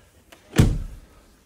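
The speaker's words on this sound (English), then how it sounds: "When you open the driver's door," A 2016 Mini Clubman John Cooper Works estate driver's door unlatching and swinging open, one sharp close click followed by a brief soft thud, near and alone.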